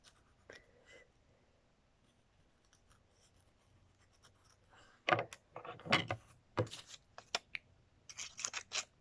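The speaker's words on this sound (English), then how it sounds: "I'm gonna trace the inside of it with a marker" A marker traces around a shape on paper, quiet intermittent scratchy strokes growing into louder, quicker bursts toward the end, close up with no talking.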